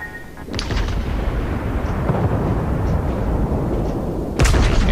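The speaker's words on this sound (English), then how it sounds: "Taking a shot at the same Colorado that I missed earlier." Heavy gunfire from the battleship Colorado in World of Warships, with a booming salvo opening the stretch and another hitting near the end over a steady, loud rumble of battle noise.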